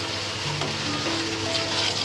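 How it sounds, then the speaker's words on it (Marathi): Spices with drumstick pods and potato sizzle and roast in a pan, a steady close frying hiss with faint stirring, no voices. "तर आता आपले मसाले झाले सगळे भाजून"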